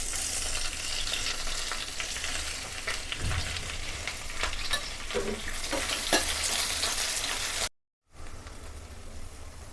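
Onion frying in hot oil with mustard seeds, green chili and curry leaves for a soybean roast, a steady close sizzle with stirring scrapes running throughout and a short silent gap near the end.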